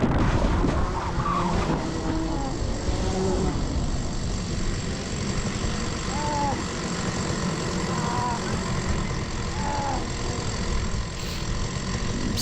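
Racing go-karts at Rowrah kart circuit during a crash: a continuous, loud roar of engines with tyre-skid noise throughout, wind-buffeted and steady, with no clear voices.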